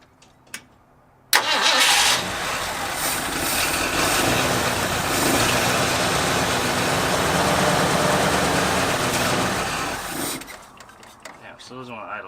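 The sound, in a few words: abandoned Ford Bronco engine starting and idling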